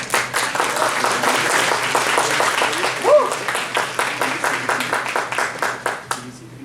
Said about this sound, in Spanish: Vamos a dar un aplauso, por favor.